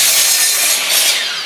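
Handsaw cutting through a wooden seat beam support for an outdoor picnic table, a loud, close rasping stroke pushing and pulling steadily, no talking.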